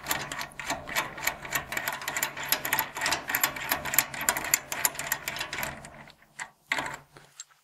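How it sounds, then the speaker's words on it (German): A shock absorber nut being unscrewed with a universal shock absorber tool set, a rapid ratcheting clatter of repeated metallic clicks that stops abruptly near the end. "So, jetzt schrauben wir das Ganze los."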